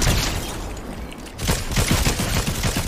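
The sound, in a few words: gunfire in Fortnite video game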